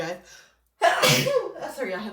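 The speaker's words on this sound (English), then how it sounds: "Sorry, I had sneezed." A single abrupt, loud sneeze bursts out close up after a moment of silence, with a brief spoken remark before it and a little breathy trailing sound after.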